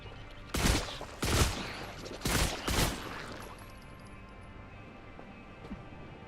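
Gunfire with incendiary rounds in The Last Caretaker game, four loud sharp shots in two quick pairs, each followed by a brief echoing tail, then a quieter hum as the shooting stops.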